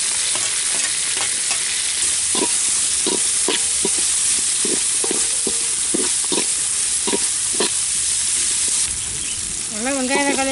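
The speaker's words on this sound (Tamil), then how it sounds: "தக்காளி பச்சை மிளகாய்லாம் சேர்த்துக்கலாம்." Tomatoes and green chillies fry in a pan for mutton gravy, giving a loud, steady sizzle close by, broken by repeated scraping strokes of a stirring spoon throughout.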